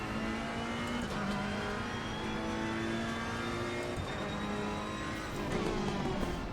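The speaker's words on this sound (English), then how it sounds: "A downshift." Ferrari engine in a racing video game, a steady loud engine note with gear changes and pitch drops as it downshifts, tire noise underneath, no talking.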